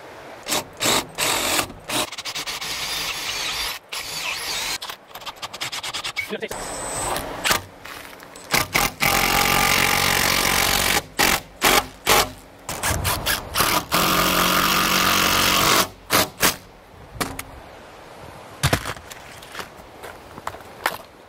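A power drill whirs in repeated bursts, spinning up and stopping again and again as timber screws drive into a wooden beam, with some talking between runs.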